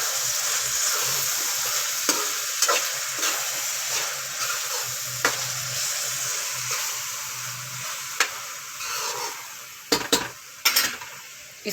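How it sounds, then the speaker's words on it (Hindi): Keema mixed with yogurt is stirred in a hot pan, giving a steady sizzle and frying hiss broken by scattered scrapes and clinks of the spoon against the pan. "अब इसको मिक्स कर लेते हैं।"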